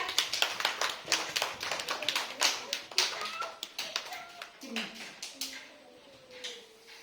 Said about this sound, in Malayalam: നല്ലൊരു കൈയ്യടി കൊടുക്കും കുട്ടികളെ